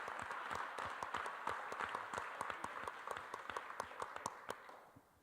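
A hall audience at an educational summit at Laney College applauds a recent graduate, with steady, moderately distant clapping and a few sharper individual claps, tapering off at the end.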